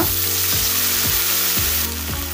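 Green chillies, ginger and curry leaves fry in hot oil for a Totapuri mango dal sambar: a dense, steady sizzle with a spoon scraping through the pan at a regular rhythm, close up, no voices.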